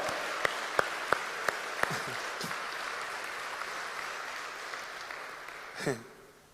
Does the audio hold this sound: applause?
yes